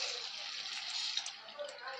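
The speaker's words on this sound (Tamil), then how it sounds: "அந்த புளி தண்ணி அதில் சேர்த்துக்கலாம்." Tamarind water poured into cooked tomatoes for garlic-pepper rasam gives a soft, steady liquid splash and trickle, fairly quiet and close.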